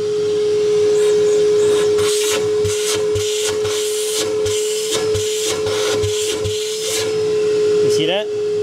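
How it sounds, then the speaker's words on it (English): A shop vac sucking water out of an in-floor pool cleaning system while it is winterized, a steady loud drone with a constant whine, broken by gurgling, slurping bursts as water is pulled in. "So what we can do is literally stick our shop vac right there and start vacuuming."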